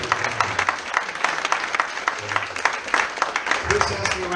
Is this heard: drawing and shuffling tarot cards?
no